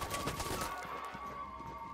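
Rapid automated gunfire from an auto turret in World War Z Aftermath, a quick rattling burst up front that thins into scattered thuds and impacts beneath a faint steady tone.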